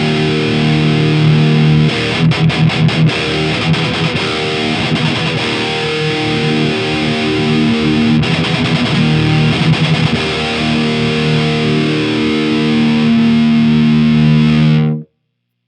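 Electric guitar through a Mesa Boogie Mark IIC++ reissue amp with the middle knob adjusted. Loud, high-gain distorted riffing includes fast palm-muted chugs, then ends on a long sustained chord that cuts off abruptly.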